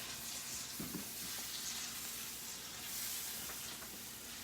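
Thanksgiving appetizer vegetables sauté in a pan with a soft, continuous sizzle and an occasional stir, faint and close with no voices.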